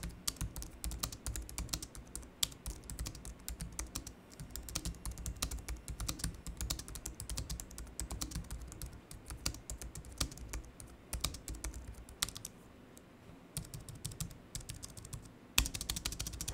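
Steady typing on a Logitech MX Keys Mini low-profile keyboard, quick dense key taps running continuously and close up, with no voices over it.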